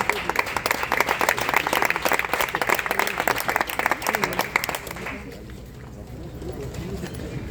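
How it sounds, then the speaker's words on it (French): A church congregation applauds with dense, lively clapping for about five seconds, then it fades away into quieter room noise. "Tu peux applaudir le Seigneur, c'est pas mauvais"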